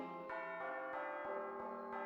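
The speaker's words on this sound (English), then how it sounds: "is that the midnight bell?" A church bell tolls at midnight in a cartoon scene, struck about seven times at a slow, even pace, each ring sounding bright and sustained so the strikes overlap, with no voices.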